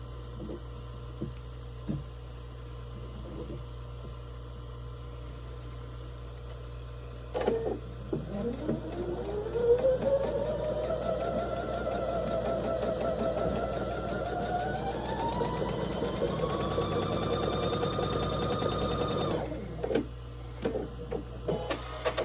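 A sewing machine stitching pieces of a quilt block, starting after a few faint clicks and running as a steady whirring hum that rises in pitch for about twelve seconds, then stops abruptly.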